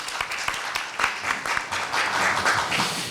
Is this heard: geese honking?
no